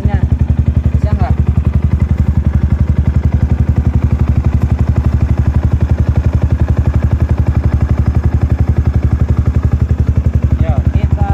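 A 2015 R15 V2 motorcycle engine idles steadily and close by, a rapid even chugging throbbing through the whole stretch with no break.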